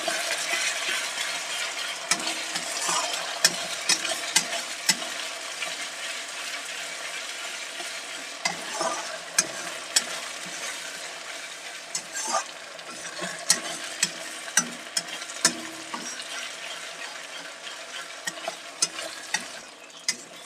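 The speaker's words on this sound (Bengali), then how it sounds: "আদা রসুনটা একটু ভাজা হয়ে গেছে" Ginger garlic paste fries in a pan for chicken curry, a steady close sizzle broken by frequent scraping clicks and taps as it is stirred, with no voices.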